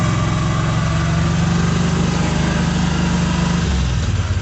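A small vehicle engine hauling mushroom logs runs loud and close, a steady droning hum with a rhythmic low pulse as it drives along.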